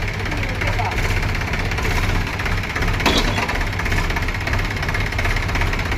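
A Mahindra 265 tractor engine idles with a steady, low, throbbing rumble that holds evenly for the whole stretch, close and fairly loud, with voices faintly mixed in.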